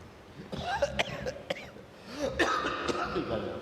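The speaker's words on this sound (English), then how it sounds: "whenever I start laughing, I start coughing" Several sharp coughs in short bursts, close and moderately loud, with a brief throat-clearing sound mixed in.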